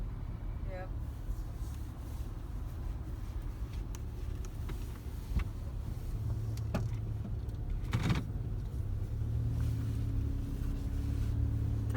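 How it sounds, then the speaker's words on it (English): Steady car-interior rumble of city traffic on the Las Vegas Strip at night, a continuous low drone with occasional passing vehicle swells and a brief clack, while people talk quietly. "Traffic again."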